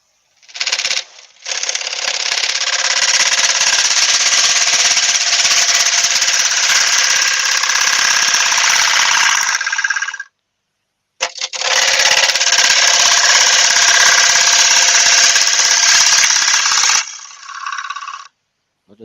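A gouge cuts into a 13-inch oak platter spinning on a wood lathe: a loud, steady, rough scraping roar runs for about ten seconds, stops briefly, then resumes for another stretch before trailing off.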